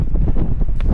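Gusty wind buffets an outdoor microphone on an open scenic viewpoint, a loud, brief rumbling roar with fluttering bursts and no talking.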